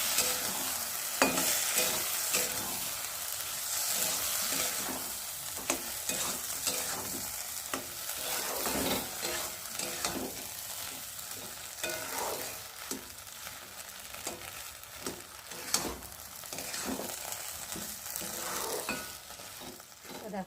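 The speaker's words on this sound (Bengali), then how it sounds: "নিচে ডালের সাথে ডালিয়া আলুগুলো ভালো করে মশলার সাথে কষিয়ে নেব।" Pressure-cooked dal, dalia and potatoes sautéed with spices in a pan, a quiet, continuous sizzle broken by repeated scraping stirs of a spoon, with no one talking.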